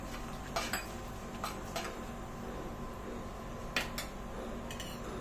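Whole spices, including bay leaf, cloves, cardamom and cinnamon, are stirred in a cooking pot on a sizzling background. A metal spoon scrapes and clinks against the pot in a few light, scattered touches.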